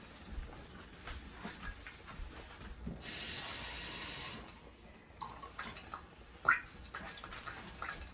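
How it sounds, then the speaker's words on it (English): A loud burst of hissing sizzle as water hits a hot pan, lasting about a second and a half amid quieter clatter and scraping. "if you hear the bubbles, that means the pan had water inside of it"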